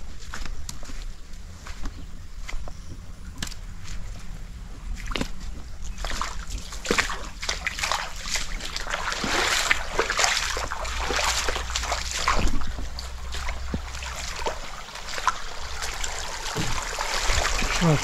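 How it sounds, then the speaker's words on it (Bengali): Water flowing down from the hills near Sreemangal splashes and trickles steadily, with irregular sloshing bursts and a few footsteps nearby, growing livelier in the middle. "পাহাড় থেকে পানি আসতেছে।"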